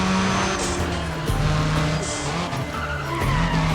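A Chevrolet Cobalt SS is driven in an arcade-style racing video game, with loud engine drone and repeated tire skids and squeals over a few seconds.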